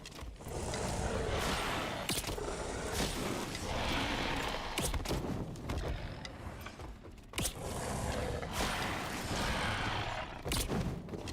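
Gunfire and clanking mechanisms sound in a Dark and Darker game session: dense, loud bursts of shots and rattling clatter continue throughout with brief gaps, with no speech over it.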